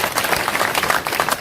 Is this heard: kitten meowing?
no